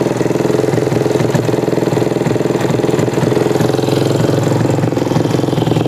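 A Yamaha Jupiter MX motorcycle with a hard-starting, stalling fault runs steadily up close, its engine droning loud and continuous with a faint throttle lift, no talking over it.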